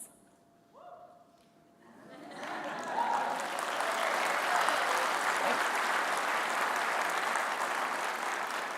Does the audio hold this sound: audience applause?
yes